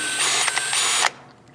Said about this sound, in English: we'll just take our drill with a 1/4-inch drill bit, and we'll mark a spot here and here